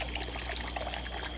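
Water trickling down the runoff of a crayfish tank, a steady close dribbling and splashing that runs unbroken throughout.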